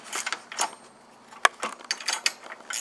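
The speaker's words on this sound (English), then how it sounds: "you'll just need a 10-millimeter wrench or socket wrench or however, but just going to loosen this wrench" A socket wrench loosens the battery hold-down plate on a Tesla Model 3, giving a series of close ratcheting clicks and metallic clacks in irregular bursts, including one sharp, prominent snap.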